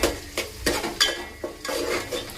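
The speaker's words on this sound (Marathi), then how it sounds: "चला तर सगळं मिक्स करते" Spices and turmeric being stirred in a pan while cooking soya chunk khichdi, several distinct scraping strokes of a spoon against the metal pan over a light sizzle, close and fairly loud, with no voices.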